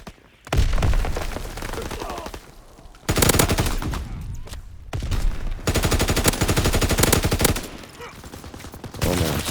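Shotgun and other gunfire in Call of Duty: WWII, loud bursts of rapid shots in long stretches separated by brief lulls, with a voice now and then beneath the firing.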